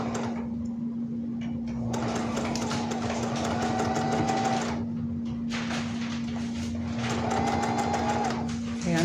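A sewing machine stitches a seam on a gathered blouse in two bursts of rapid, even whirring lasting a few seconds each. A steady electric hum fills the pauses between them.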